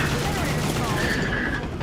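An AK rifle mod firing in Left 4 Dead 2, a continuous dense rattle of rapid automatic shots at steady loudness for the whole short burst.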